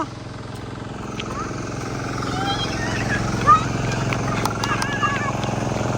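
A motorcycle engine hums on a rural road in Mindoro Occidental, Philippines, growing gradually louder as it approaches and passes. Voices talk over the steady drone.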